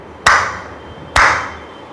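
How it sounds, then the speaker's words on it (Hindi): Two sharp, close hand claps about a second apart, each bright and ringing briefly in a reverberant room during a Bhagavat discourse, with no speech over them. "ऐसे ताली तो यहां भी बजती है"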